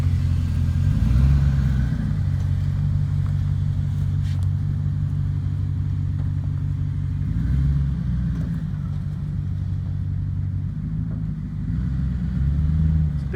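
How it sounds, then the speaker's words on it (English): A lifted 2006 Ford F-250 FX4 pickup with a six-inch suspension lift driving around a yard, its engine rumbling steadily with a few gentle revs and shifts in pitch, fairly close and with no talk over it. "I think he's going to take it for a quick drive around the yard."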